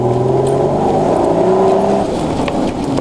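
V12 twin-turbo engine fitted in a BJ40 LandCruiser, revving steadily with a smooth, throaty multi-cylinder drone, loud and close, slightly easing off toward the end, no talking over it.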